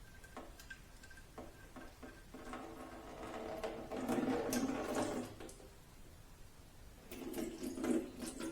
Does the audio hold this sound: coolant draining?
yes